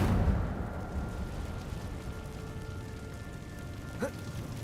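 An Incendio fire spell in Hogwarts Legacy burns away cobwebs with a low roaring whoosh that crackles and rumbles steadily, then ends in a small pop near the close.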